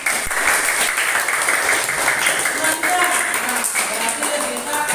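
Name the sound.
class applause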